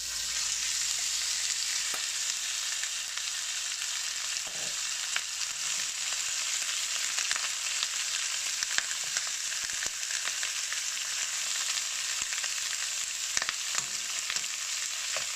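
Pork belly searing in a hot pan with ginger slices gives a loud, steady close sizzle that runs the whole time, with a few faint clicks and small pops and no voices.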